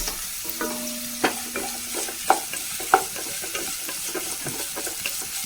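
Cubed onion sautéing in a pan for chicken rice: a steady sizzle with repeated spatula scrapes and taps against the pan, a few sharper clanks standing out, close by, no talking.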